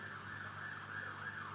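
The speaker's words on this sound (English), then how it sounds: "I don't know if you can hear the sirens outside." Distant sirens wail faintly outside, a steady rising and falling tone heard alone at low level behind a muffled background hum.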